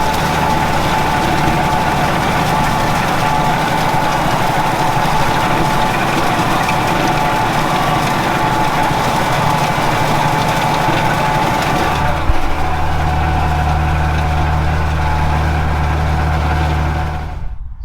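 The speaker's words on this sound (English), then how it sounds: "So we're back up here now with the tractor." A Massey Ferguson 3690 tractor engine runs steadily and loudly with a low, constant drone while tedding; partway through the tone shifts deeper as the engine changes load.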